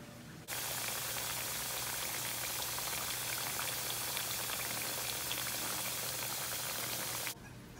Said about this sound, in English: You cut up some plantains in this shape, see? And we're gonna fry them.